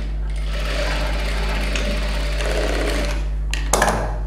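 Sewing machine stitching a blouse seam, running steadily with a continuous mechanical whirr and low hum, then stopping with a short clatter near the end. Someone speaks quietly in the background.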